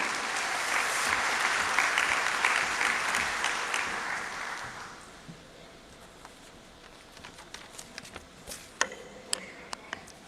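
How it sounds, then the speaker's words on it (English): An audience at the Semicon India 2025 event breaks into loud, dense applause that fills the hall for several seconds, then fades to scattered claps and a few sharp knocks and rustles as the room settles. "With a round of applause, let's welcome Mr. Kai Beckmann."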